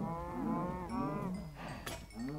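Minecraft cow mooing in a long drawn-out bellow, then a second low moo with a brief click or bell-like clink in between, loud and close with no talking.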